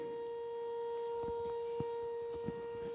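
A siren sounds outdoors, holding a steady unbroken tone through the whole stretch with faint background noise and a couple of soft knocks, no voices.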